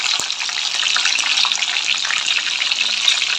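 Chillies, curry leaves and peeled garlic fry in hot oil for fish curry, giving a dense, continuous close sizzle with a few faint clicks and no voices.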